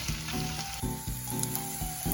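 About two teaspoons of minced garlic sizzling in a pot as it is stirred while making shakshuka: a steady, fairly loud hiss of frying with a faint tonal hum underneath, no voices.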